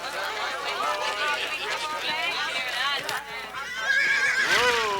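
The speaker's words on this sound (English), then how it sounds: "That Agamemnon's a good horse." A horse named Agamemnon whinnies loudly near the end while hooves clip-clop steadily underneath, with voices and crowd chatter around it.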